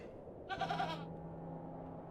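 A goat from the video game The Excavation of Hob's Barrow gives one short, wavering bleat of about half a second, fairly close, over a low steady background hum.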